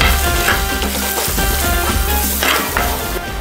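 Turmeric powder, a pinch of salt and curry leaves frying in oil for a Kerala-style fish curry, a steady close, loud sizzle with scraping stirs running throughout, no talking.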